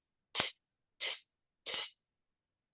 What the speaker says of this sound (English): So the 4 breath sounds like this.